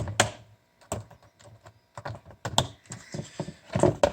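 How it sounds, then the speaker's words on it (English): Wire cutters snip wires inside a nail dryer being scrapped for e-waste, a series of sharp close clicks and snaps at an uneven pace, faint handling noise between cuts. "Let me go ahead and snip some of these wires here."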